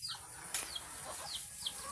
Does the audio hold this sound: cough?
no